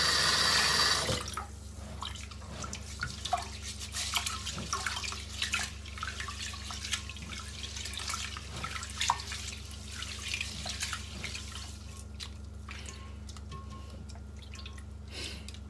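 Tap water runs steadily into a sink while Japanese sticky rice is rinsed for the rice cooker, with scattered drips and small splashes over a low continuous hum, loudest in the first second.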